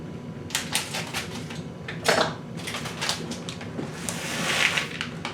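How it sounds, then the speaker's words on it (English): Plastic bag of caramel and Heath toffee bits being cut open and handled in a kitchen, close crinkling and rustling with several sharp crackles, no talking. "Let's cut this bag open."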